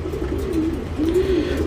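Tournament pigeons in a Bangalore loft cooing, two soft rolling coos close by over a low steady background hum.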